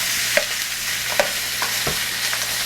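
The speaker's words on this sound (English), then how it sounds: "I'm going to sear this other side just a little bit more." Meat sears in a hot pan with a soft continuous sizzle, broken by a few quiet scraping or stirring touches spaced through the moment.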